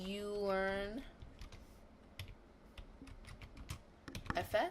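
Computer keyboard typing in a short burst of scattered key clicks, faint and close, following a brief spoken phrase at the start and before more talk at the end.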